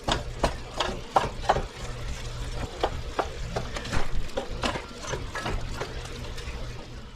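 Ground meat fries in a pan for a homemade Italian sauce while a utensil repeatedly stirs and breaks it into crumbles, sharp scraping strokes over a steady sizzle.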